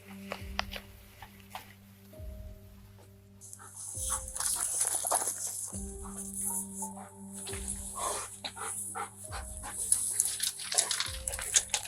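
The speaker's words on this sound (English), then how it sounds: "Suspect being tracked by a police dog." Police dog Haywire, a tracking K9, barks in repeated loud bursts at a steady rhythm, with hissing noise and faint distant voices between the barks.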